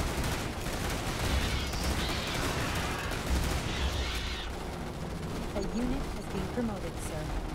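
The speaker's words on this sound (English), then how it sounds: "And we'll test out the brand new shotties." Squads fire shotguns in Starship Troopers: Terran Command, a dense, continuous barrage of overlapping gunshots and blasts in a busy battle mix, with a voice talking over the gunfire.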